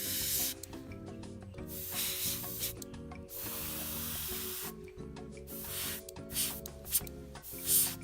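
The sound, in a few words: airbrush spraying paint on model tank tracks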